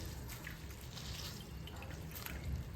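Faint, quiet trickle and drip of water squeezed from a cloth, falling in small spatters, close by and soft, with no talking.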